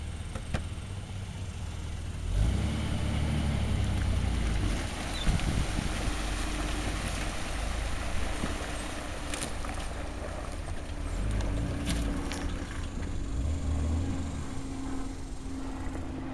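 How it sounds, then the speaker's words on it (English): A red Jeep TJ on the move, giving a steady, full low rumble of road and engine noise mixed with wind buffeting, continuous for the whole stretch and with no voices. "That's a Jeep in two with a 50 mile an hour head start."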